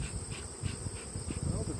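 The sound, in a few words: honeybee colony buzzing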